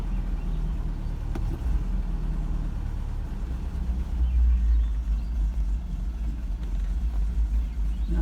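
A Mercedes 190SL engine idles while warming up, a steady low rumble close by with a slight swell midway and no talking.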